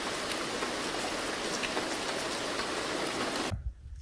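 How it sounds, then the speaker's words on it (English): Rain falls on palm leaves in the Seychelles, mixed with wind, a dense, steady hiss of drops pattering close by that cuts off abruptly near the end, leaving near silence. "when there's rain falling on top of palm leaves, merged together with the sound of the wind."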